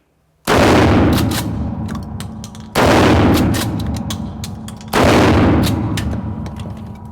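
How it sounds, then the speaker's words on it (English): A Remington Model 870 DM pump shotgun fires three 3-inch shells at a range, three very loud, sharp blasts spaced about two seconds apart, each followed by a long, decaying echo. "These are the first rounds we fired out of this Remington."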